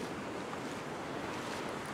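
Ocean waves surging onto a fishing beach make a steady, broad wash of surf, fairly faint and continuous with no distinct breaks and no voices.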